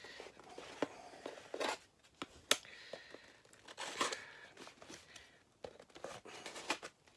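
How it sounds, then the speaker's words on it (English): A postal package is cut and torn open close up, with irregular bursts of tearing, crinkling and rustling packaging separated by short quiet gaps. "Oh, let's just cut it open,"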